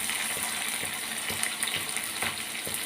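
Onion and curry leaves frying in hot oil in a home kitchen pan, a steady hissing sizzle with small crackles, moderately quiet and alone.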